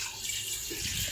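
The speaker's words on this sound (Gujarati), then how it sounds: "હવે એક મોટા તપેલામાં ઢોકળી માટે પાણી મૂકવાનું છે." Water runs steadily from a tap into a large cooking pot for Surti dhokli, a soft continuous rushing and splashing that stays even and close for its short length, with no one talking.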